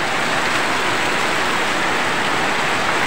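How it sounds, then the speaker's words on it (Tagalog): Heavy rain pours down in Laguna, a dense, loud, unbroken roar of falling water with no pauses. "lakas ng ulan namin dito sa Laguna"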